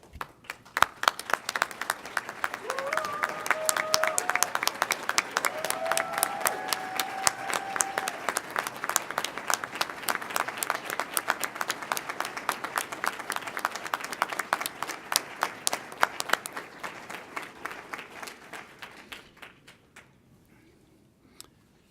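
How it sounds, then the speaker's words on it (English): A graduation ceremony audience at Saint Mary's University of Minnesota gives sustained applause honoring faculty, a dense roomful of clapping that builds, holds steady for a long stretch, then thins into scattered claps before fading out. "so that we may all honor you with our applause"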